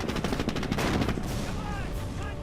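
A Greyhound armored car fires its main weapon in the Company of Heroes strategy game, a dense, loud burst of battle gunfire that lasts through the short clip.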